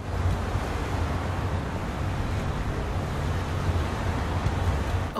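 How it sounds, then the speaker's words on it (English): Rushing water floods through a video game sewer as a steady, broadband surging roar with no break, loud and close. "Water's coming. Water's rising."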